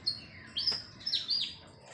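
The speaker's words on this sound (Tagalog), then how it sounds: "Dami ibon." Several birds, an oriole among them, chirp around a house in short bright bursts, with a few calls close by and others farther off in quiet surroundings.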